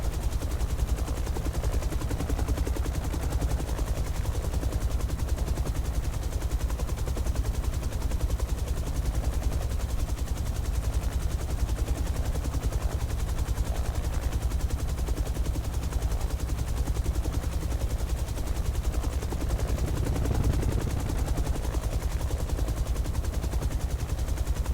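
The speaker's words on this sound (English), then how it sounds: "I wasn't talking against the helicopter sounds." Rotor noise from a Nimbus UH-1 Huey helicopter in the X-Plane 11 flight simulator, flying over the Las Vegas Strip: a steady, loud, dense engine and blade roar that continues unbroken for the whole stretch, with no talking.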